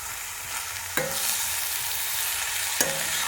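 Moringa (drumstick) leaves being stirred in a pan as they stir-fry, a steady close sizzle with two sharp scrapes of the spatula against the pan, no talking.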